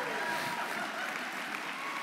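A church congregation applauds, a dense, even wash of many hands clapping filling the space for a couple of seconds.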